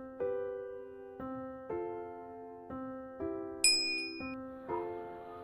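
A bright bell-like ding rings six times in a slow, even sequence, each tone decaying cleanly, with a higher sparkling chime added near the end.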